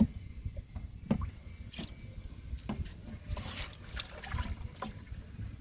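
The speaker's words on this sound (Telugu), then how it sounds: "పోసేస్తున్నానండి మొత్తం లిక్విడ్ అంతా" Liquid fertilizer trickling and splashing from a container onto a ridge gourd plant in a vegetable garden, a close, steady dribble with scattered drips.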